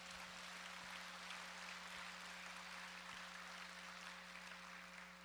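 Steady applause from a large church congregation fills the space, a dense even patter of clapping over a low hum, continuing without a break.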